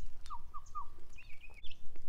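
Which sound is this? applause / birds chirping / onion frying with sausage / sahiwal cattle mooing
birds chirping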